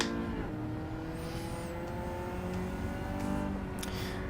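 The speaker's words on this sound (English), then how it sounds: "The sound of the cars in GT7" Race car engines in Gran Turismo 7 at Road Atlanta, a steady droning engine tone with slowly shifting pitch and faint tire squeals, heard up close and continuous without talk.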